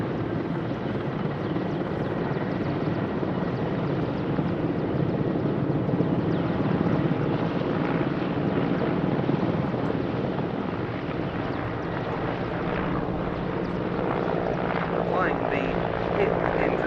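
A Czech Mil Mi-24 Hind helicopter flies a display at the Royal International Air Tattoo 2022, its loud continuous rotor and turbine roar filling the air and swelling slightly as it manoeuvres, with no voices over it.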